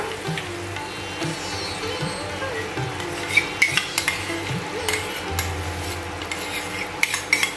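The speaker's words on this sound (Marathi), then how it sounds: "आता आपण जे दहीमध्ये मसाले घातले होते तर आता आपण ते घालूया." A spoon stirring a spiced yogurt mixture into cooked tomato and onion paste for Kashmiri dum aloo, soft scraping and sizzling with scattered sharp metallic taps against the pan, close and fairly loud.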